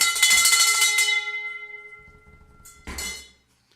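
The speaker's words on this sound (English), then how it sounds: "Either way, you get a bell ring." A bell is struck twice, each strike ringing out loud and clear with a long metallic decay, the second coming after a short gap and cut off more quickly.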